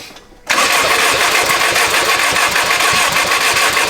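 A forged performance car engine cranks continuously on the starter after the turbo is primed with oil, a loud, steady churning drone that kicks in abruptly and carries on without catching.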